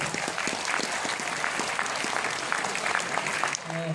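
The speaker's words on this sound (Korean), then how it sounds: "자, 우리 뜨거운 박수 부탁드리겠습니다." Warm applause from a middle-school audience after a student court session, with distinct hand claps steady throughout and a brief drop near the end where a faint voice or tone enters.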